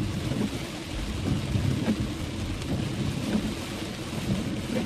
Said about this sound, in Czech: Pěkná přeprška.